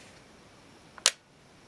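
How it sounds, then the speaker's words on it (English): A single crisp mechanical click from an Olympus XA2 35mm film camera as its shutter fires, close and isolated against quiet room tone, preceded by a tiny faint tick. "Let's fire the shutter a little bit here into the light."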